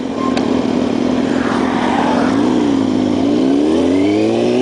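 A car passes on a UK road, heard from a rider's position with steady engine and tyre noise rising and shifting in pitch as it goes by, loud and continuous without talk.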